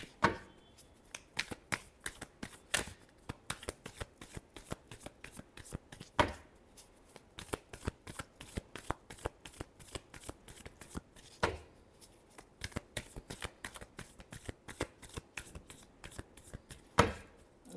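Tarot cards shuffled by hand in a quick, crisp run of riffling flicks and taps, close and quiet, with a few sharper slaps of the deck and no speech.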